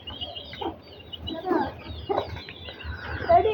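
A hen clucking in a rural yard, several short close clucks in an uneven rhythm with low background noise and a faint voice nearby.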